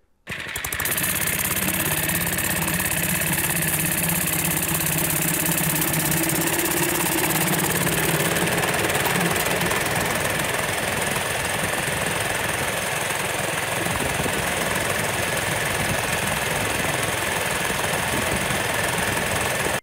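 A Dirt Bug mini bike's small engine runs steadily at full throttle, a loud continuous rasping drone with rattly knocking that holds level for about twenty seconds with no talk.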